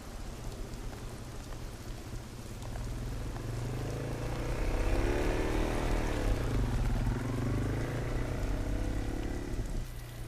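Steady rain pours down in a dense, constant patter, with a low rumbling drone swelling and fading underneath, no voices.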